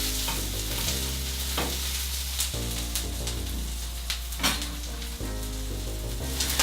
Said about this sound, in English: we're just going to fry the onions a bit until they're golden brown